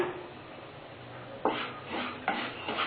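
Moong dal stirred and fried in a pan on the stove with ginger-garlic paste, with a soft sizzle under several sharp scraping strokes of a spoon against the pan.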